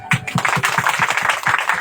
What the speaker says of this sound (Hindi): आज जो ताली है सुनाई दिया